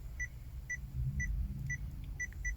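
A Pentax K-3 Mark III camera self-timer beeps steadily, about six short high-pitched electronic beeps evenly spaced every half second, over a faint low background hum.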